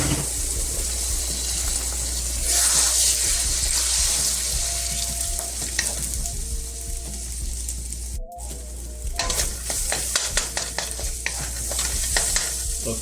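Eggs seasoned with cayenne pepper fry in a pan for hotdog fried rice, giving a loud, continuous close sizzle and hiss, with a brief dropout midway and then rapid scraping and stirring clicks toward the end.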